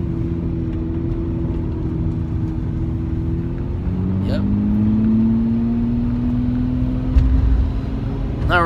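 Lamborghini Murcielago engine on a ride along Las Vegas Boulevard: a loud, steady, close drone that swells and climbs in pitch midway, with a brief sharper burst near the end.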